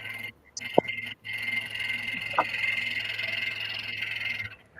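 A wooden frog percussion toy, a hand-carved piece from a woodworking show, gives a few short raspy croaks standing out clearly over steady background hum.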